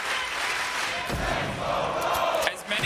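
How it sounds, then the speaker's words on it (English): Crowd noise from spectators at a Rainbow Six Siege Berlin Major semifinal, a broad sustained roar of chanting and cheering that swells slightly toward the end. "It takes one loud voice and a willing crowd."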